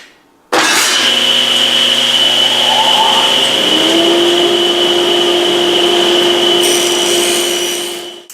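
A power saw cuts a piece of wood to length for a table extension, a loud, steady motor whine that starts abruptly and runs continuously at close range through the cut.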